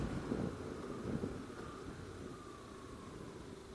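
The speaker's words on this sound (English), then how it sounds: "It's very windy" Strong wind buffets the microphone near Picket Post Mountain in Arizona, a steady broadband roar with a couple of heavier gusts early on, then settling into continuous rumble.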